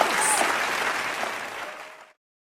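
A group of children clapping together in a classroom lesson, a steady burst of applause lasting about two seconds before stopping abruptly.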